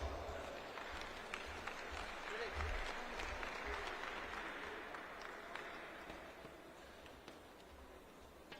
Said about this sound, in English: May we welcome him with a round of applause.